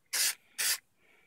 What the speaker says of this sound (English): I'm just going to go ahead and just start spraying it on. One nice thin coat.